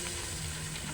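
Steady sizzling of sautéing in a pan, as chicken feet and macaroni soup gets underway, a continuous close frying hiss with no talk.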